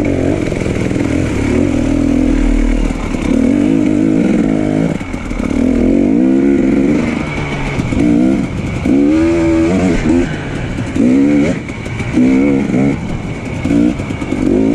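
Motorcycle ridden on a long solo loop through the Kawartha Lakes countryside, a loud steady engine drone with repeated rises and falls in revs as it shifts and accelerates, heavy wind rush throughout.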